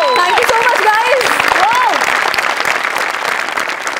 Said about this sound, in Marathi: मला वाटतं त्या दोघांसाठी सुद्धा जोरदार टाळ्या झाल्या पाहिजे.